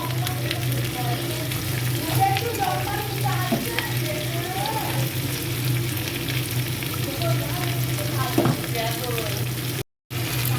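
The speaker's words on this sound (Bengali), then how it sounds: "আদা রসুনের পেস্টটা দিয়েছি, দিয়ে একটু ভাজা ভাজা করে নিয়েছি" Ginger garlic paste frying in hot oil in a pan for chilli chicken: a loud, steady sizzle runs throughout with faint stirring, and drops out briefly near the end.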